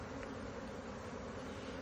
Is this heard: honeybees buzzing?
yes